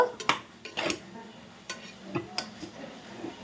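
Spoon scraping and clinking against a pan while cooked chickpeas (guggulu) are stirred, a handful of sharp taps and scrapes spread irregularly over a low kitchen background, no talk.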